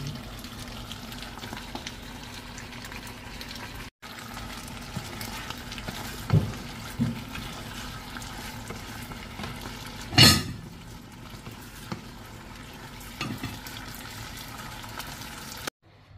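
Chicken and vegetables frying in a pan give a steady, moderate sizzle throughout, broken by a few sharp utensil knocks, with no one talking.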